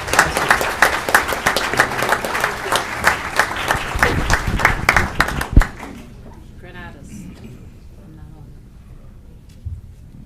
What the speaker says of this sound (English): Let's give them a round of applause for all their hard work